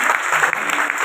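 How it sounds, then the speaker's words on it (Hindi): A seminar crowd claps loudly and continuously in a brief, even burst of applause with no pauses. "एक बार जोरदार तालियां हो जाए।"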